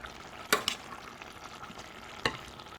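Leeks and carrots stirred in a simmering pot over medium-high heat, giving two sharp utensil scrapes against the pot about two seconds apart over a faint, steady bubbling background.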